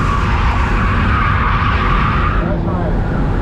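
A car drifting on the Arenas de San Juan circuit makes loud continuous tire skidding and squealing over a roaring engine, close and sustained, easing slightly toward the end.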